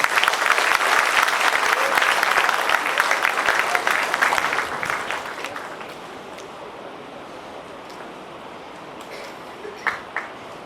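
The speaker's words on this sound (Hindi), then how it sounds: "ऑडियंस को देखकर लगता नहीं है कि इतने ऑडियंस की ताली की आवाज है।" An audience applauds at a Diwali celebration and prize announcement, dense clapping that fades out midway, leaving a few scattered claps and quiet room sound.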